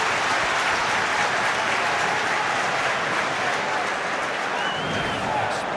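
A big football crowd at Ashton Gate roars during a Bristol City cup match against Manchester United, urging a player to shoot. The noise is a loud, continuous wash of cheering and clapping filling the whole stretch.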